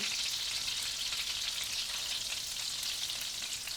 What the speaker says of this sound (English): now we start with the cutlet. And I lower the flame, okay, you know, gotta burn the cutlet